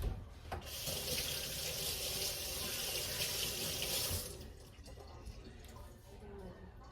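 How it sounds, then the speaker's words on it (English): Hands rinsed under a running kitchen tap: a steady close rush of water for about four seconds, then the flow cuts off, leaving faint drips and quiet room noise. "let me rinse my hands"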